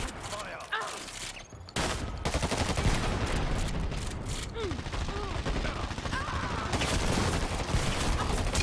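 Gunfire in a shooter video game, with bursts of rapid shots and fusillades running almost continuously, loud and dense, with a short pause near the start.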